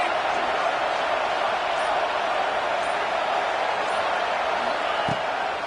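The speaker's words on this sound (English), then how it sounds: "Decibels rising as the crowd gets behind this defense on third down." Football stadium crowd at a Rutgers game on third down, a dense, steady roar of cheering and noise filling the whole stretch without letup.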